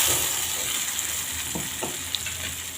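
Green chilli and tomato chutney with asafoetida and turmeric sizzling as it is stirred in a pan, a close steady frying hiss with soft scraping strokes of the spoon.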